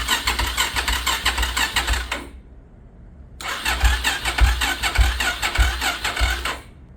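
A Suzuki DRZ motorcycle with a newly fitted FCR 39 carburetor cranks on its starter in two loud, close bursts of rapid chugging, separated by a short pause, without catching.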